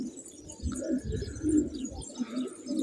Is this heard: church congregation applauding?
no